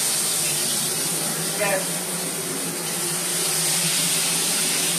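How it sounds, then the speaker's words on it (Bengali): Pabda fish, full of roe and very soft, frying slowly in oil: a steady broadband sizzle and hiss throughout at even loudness, with a faint voice over it. "এখানে খুব আস্তে আস্তে ভাজতে হবে মাছটা"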